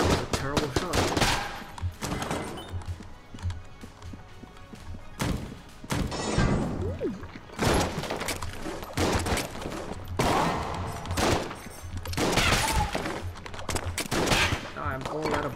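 Rapid bursts of gunfire and impacts from the video game Enter the Gungeon, loud clustered volleys with thuds and crashes in between, while a player talks over parts of it.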